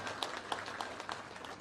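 An audience at a political rally in Andhra Pradesh claps, a short burst of scattered, fairly faint hand claps in a loose, uneven rhythm, heard from a distance without speech.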